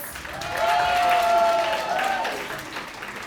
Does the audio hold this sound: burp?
no